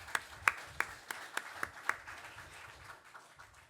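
Scattered clapping during a church Bible seminar, a handful of sharp, distinct claps from only a few people, fairly quiet and thinning out toward the end.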